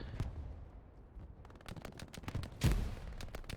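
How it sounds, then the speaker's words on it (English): In the online war game Hell Let Loose, grenade blasts and rifle gunfire sound out as a quiet scattered rattle of shots, with one heavier explosion thudding near the middle of the burst. "There's nades out there."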